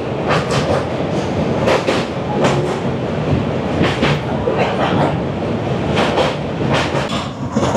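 Jammu Tawi Express crossing the Vivekananda bridge near Dakshineswar, heard from on board as a steady loud rumble with repeated rhythmic wheel clacks over rail joints throughout.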